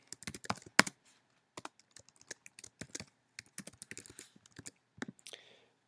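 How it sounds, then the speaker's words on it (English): Someone types on a computer keyboard up close, with irregular bursts of crisp key clicks, one sharper clack early on, and short pauses between runs of keystrokes. "See if I can type this in correctly."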